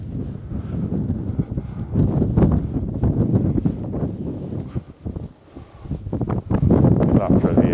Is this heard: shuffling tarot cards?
no